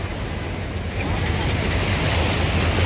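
Floodwater from heavy rain rushes through a street near the bus stand in Kotkapura, Punjab, a loud, broad, steady wash of flowing water with wind buffeting the microphone.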